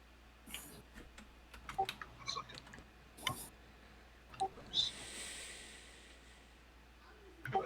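Sharp mouse clicks on a computer, a few scattered single and double clicks near and fairly loud against quiet room noise, with soft breathy sounds between them.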